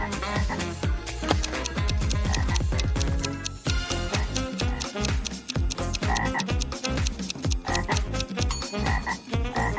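Frogs croak in rapid rhythmic bursts over a busy musical backing, with dense repeated pulses early on and then spaced croaks continuing steadily and loudly to the end.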